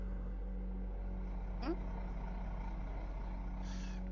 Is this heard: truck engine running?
yes